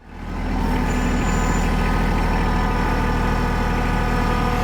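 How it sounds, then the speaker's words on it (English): Tractor engine pushing in a woodyard: a loud, steady diesel drone with deep low rumble and a dense mechanical chug, close by, rising quickly at the start and then holding constant. "Give it a little push with the tractor and see what happens."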